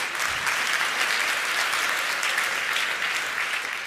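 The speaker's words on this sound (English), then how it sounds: "Please give a warm round of applause to Jacob" Steady applause from a conference audience for a talk, dense continuous clapping filling the room with no speech over it.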